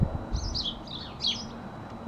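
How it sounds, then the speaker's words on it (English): Small birds chirp in bright, warbling bursts outdoors near a sunny decking, with two distinct call phrases over a low background rumble. "Where's the birds? I wish I could find them for you."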